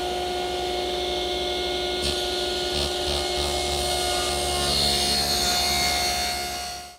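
A saw cutting through the other end of a wood panel for a four-drawer chest, a steady close whine with a rasping bite and brief changes as the blade works through, fading out at the end.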